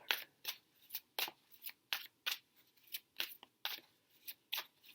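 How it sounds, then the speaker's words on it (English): Tarot cards being shuffled by hand, a quiet run of short crisp riffling and slapping bursts in an uneven rhythm, close and alone without speech. "Let me just shuffle these cards."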